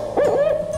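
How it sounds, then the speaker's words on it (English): Recorded owl hoots played from a push-button exhibit in a kindergarten school hallway: a short, clear, wavering hoot, close and fairly loud, alone without talk. "you can press a button and you'll hear owl sounds"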